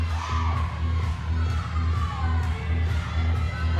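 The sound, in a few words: gymnastics teammates cheering from the corral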